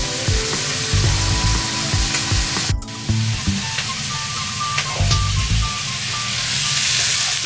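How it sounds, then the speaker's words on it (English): Onions sauté in a pan ahead of the pork going in for a pork stew. A steady sizzle with a few clicks plays under fairly loud background music. "the onions I'm gonna saute with the pork right now"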